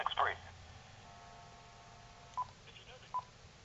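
Touch-tone dialing on a Uniden SSE25 cordless phone under repair, set to speakerphone: a quick burst of keypad tones at the start, then two short separate beeps later, over a quiet background hum.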